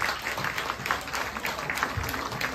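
Clapping for a charango player at a tribute concert in Stockholm, a dense, even stretch of applause from a crowd at moderate volume, unbroken by speech.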